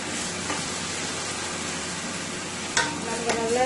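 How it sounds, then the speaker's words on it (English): Steady hissing sizzle of eggplant frying in hot oil, with a few sharper crackles and pops near the end. "that is frying up nicely there into the oil"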